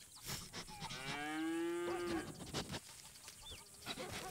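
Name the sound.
cattle mooing in a video game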